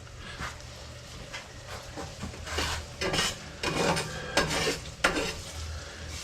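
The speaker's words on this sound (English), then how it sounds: "while I'm stirring this down" Stuffing mixture for seafood-stuffed crappie being stirred in a pot: scraping, rubbing strokes with a soft sizzle underneath, growing busier and louder toward the end.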